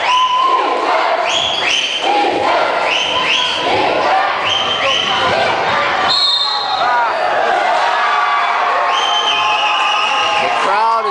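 Loud crowd at a basketball game in Japan cheering and whooping continuously after a missed free throw, with ball bounces and shouted voices mixed throughout.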